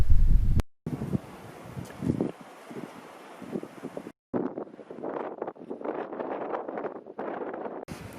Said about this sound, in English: it's really windy out here and full of sand